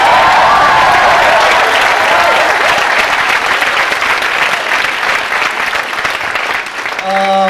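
A large audience at a 1995 freshman orientation applauds, dense sustained clapping filling the hall from start to end, fading slightly near the close.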